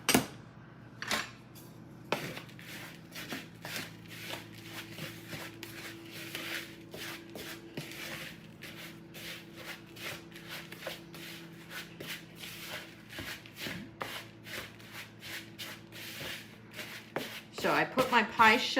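Melted butter is stirred into a macaroon pie filling in a bowl, giving a steady run of soft, rapid scraping strokes close by, with a few louder knocks near the end.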